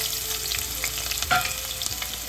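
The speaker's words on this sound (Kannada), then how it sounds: "ಸ್ವಲ್ಪ ಈರುಳ್ಳಿ ಕಲರ್ ಚೇಂಜ್ ಆಗುವಾಗ ಇದನ್ನು ಫ್ರೈ ಮಾಡ್ಕೊಳ್ಳೋಣ ನೋಡಿ" Onions fry in oil in a pan for avarekalu masala pulao, giving a close, even sizzle broken by light stirring clicks, with no talking.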